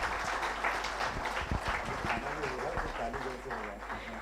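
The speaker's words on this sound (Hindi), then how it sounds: "देखिए, तालियों में बिल्कुल कंजूसी मत कीजिएगा।" Audience applause fills a hall at an awards ceremony, a dense steady wash of clapping with a few sharper claps standing out, continuing evenly throughout.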